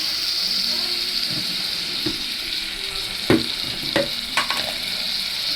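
Tomatoes sauté in a pan for a mutton curry. The sizzle is steady and close, with a few sharper clinks and stirring knocks toward the end. No voices can be heard.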